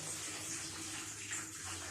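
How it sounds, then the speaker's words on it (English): Hot water runs steadily from a kitchen tap for washing dishes, a continuous close rushing stream with no talk over it. "This is hot water."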